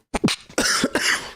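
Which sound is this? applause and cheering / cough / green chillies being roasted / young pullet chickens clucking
cough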